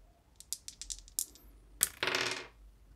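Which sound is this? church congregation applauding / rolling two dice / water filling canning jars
rolling two dice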